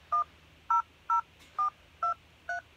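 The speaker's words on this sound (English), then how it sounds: "So, I'm going to dial my mom's number." Six crisp touch-tone dialing beeps sound evenly spaced as a phone number is dialed on an iPod Touch 7th generation, close and clear over a faint low hum.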